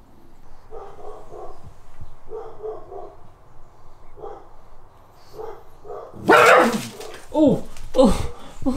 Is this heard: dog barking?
yes